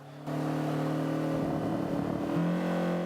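Engine of a Honda Civic CRX Mugen in Forza 5 revs steadily and loudly through the whole stretch, its pitch dipping and then climbing again as the driver rev-matches while braking.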